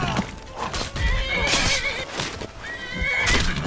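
A horse neighs loudly in Skyrim, its whinnies rising and falling across the clip, with clip-clop hooves and game ambience beneath.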